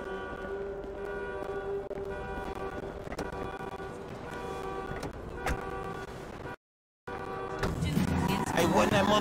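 Car driving in the GTA 5 video game: a steady engine hum with tonal whine runs throughout, briefly cut out by a short gap, then returning louder with rougher tire and road noise near the end.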